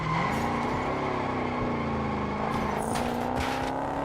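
In the Test Drive Unlimited: Solar Crown racing game, a car brakes hard at the end of a long straight, its engine note winding down with a steady, loud mechanical drone and some tire noise.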